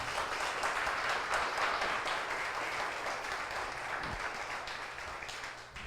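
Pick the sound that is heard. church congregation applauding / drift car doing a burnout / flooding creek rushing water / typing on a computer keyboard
church congregation applauding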